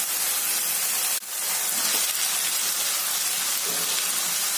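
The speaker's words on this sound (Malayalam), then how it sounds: "നന്നായിട്ട് വഴറ്റി കൊടുക്കുക." Onion and tomato mixture for egg bhurji sautéing in a pan, a loud continuous sizzling hiss with a brief dip early on, steady throughout.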